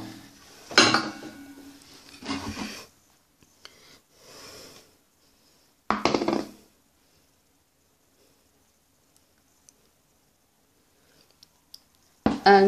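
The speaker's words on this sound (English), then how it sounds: "So you're going to shake it off like this, or do it with a spatula or the back of the spoon" Victoria sponge batter is knocked and scraped into cake tins with a spatula or the back of a spoon, a few short bursts of clattering and scraping separated by long quiet gaps.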